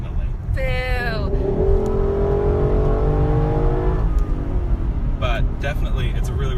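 A Lexus LC500 accelerates hard on a highway, engine note climbing through a gear with a shift midway, heard from inside the cabin over road roar, with people talking at the start and end.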